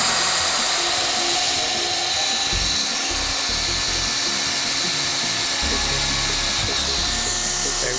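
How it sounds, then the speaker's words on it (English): A hot tapping machine bores into a pressurized water pipe, giving a steady, loud, continuous high-pitched drilling whine with a low rumble that dips and returns several times. "Now it'd be ready to drill."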